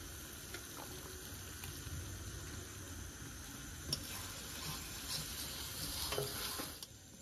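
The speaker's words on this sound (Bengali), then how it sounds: "এখন টমেটোটা দিয়ে দিচ্ছি।" Tomatoes tossed into chicken frying in a pan for a home-style chicken curry, giving a steady quiet close sizzle with soft stirring scrapes and occasional small pops, no talk.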